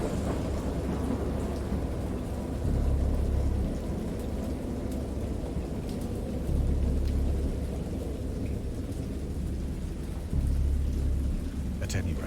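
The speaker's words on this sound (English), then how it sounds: "I have indistinct recollections of a great storm sometime after I reached the boat" A thunderstorm in the Dagon visual novel game: steady heavy rain with deep rolling thunder swelling up every few seconds. A voice can be heard faintly beneath the storm.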